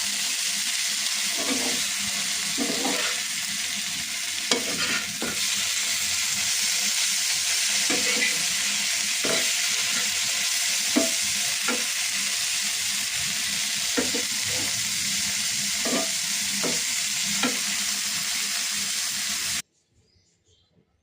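Boiled greens and prawns frying with chilli in oil, a continuous loud hissing sizzle close up with regular scraping strokes of a stirring spatula, no talking, ending abruptly in near silence.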